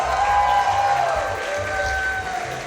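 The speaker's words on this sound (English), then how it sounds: "Yo, the crowd, the British players, can you give it up for Curry Governor one more time, please" Crowd at a fighting game tournament (Valhalla III, Ultimate Top 8) applauding and cheering for the British players, a loud, dense wash of clapping and shouts that swells then settles, with a commentator's voice over it.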